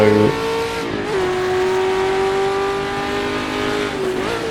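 A Ferrari 365 race car in the Daytona 24 Hours 1966 racing game holds a loud, steady engine note close by, shifting pitch slightly as it revs on, with a brief rise near the end and no talk.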